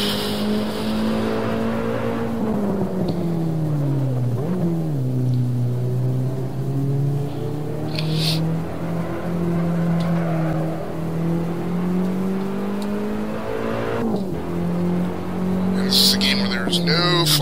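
Race car engine in the sim racing game Assetto Corsa, a steady loud drone that dips and climbs with gear changes and throttle, with brief tire squeals, while someone talks over it.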